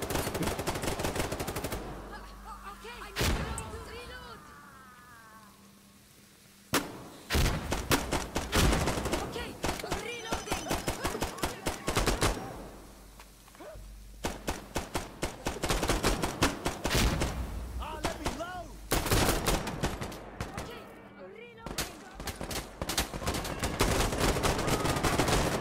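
Rapid bursts and single cracks of gunfire ring out across a multiplayer Insurgency Sandstorm match, loud and repeated in clusters with brief lulls, while players talk over the shooting.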